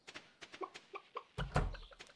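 Chickens cluck in a row of short, bright calls from the Stardew Valley farm game, the notes spaced evenly at first, then a louder, denser burst of clucking and squawks near the end.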